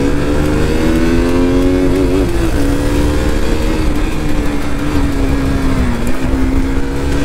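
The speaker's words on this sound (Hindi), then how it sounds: "आवाज सुनो बाइक की, एग्जॉस्ट की फुल।" A modified motorcycle with a loud full exhaust revs close by in a continuous, throaty engine roar. The pitch rises and dips as the throttle is blipped, and no talk is heard over it.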